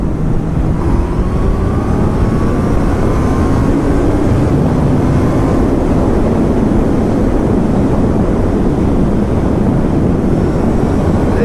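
A 2019 Honda CB1000R Plus motorcycle accelerating hard in third gear from around 4,000 revs, a loud steady engine roar with rising pitch, heavy wind rush continuous throughout, no voices.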